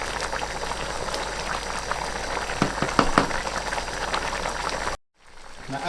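Water boils down steadily in a pot of Kabuli pulao rice, with a dense bubbling simmer and a few sharper pops near the middle. The sound then cuts out abruptly, and quieter room noise follows.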